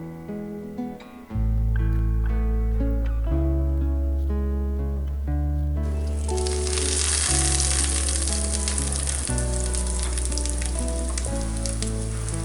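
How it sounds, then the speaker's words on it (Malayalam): Breadcrumb-coated chicken fries in oil on a hot tawa with a dense, bright sizzle that begins partway through and keeps going, sitting under loud background music with a steady beat. "അതിനുശേഷം തവ ചൂടാക്കി എണ്ണ ഒഴിച്ച് ബ്രെഡ് പൊടിയിൽ മുക്കി"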